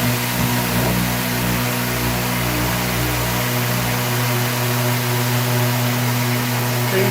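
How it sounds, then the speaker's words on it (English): A power sander whines steadily with a vacuum running alongside, a loud continuous mechanical drone with a low rumble easing partway through. "And it'll be a little loud for a minute with the vacuum."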